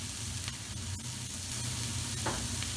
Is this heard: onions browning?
yes